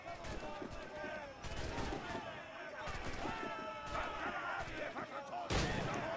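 Repeated booming shots from a ship's cannon in Assassin's Creed IV: Black Flag ring out over busy music and effects, several heavy blasts spread across the stretch.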